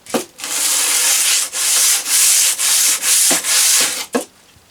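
Steady back-and-forth sanding strokes as the metal sole of a Faithfull No 4 hand plane is rubbed over abrasive, five long rasping passes with short pauses, close and loud.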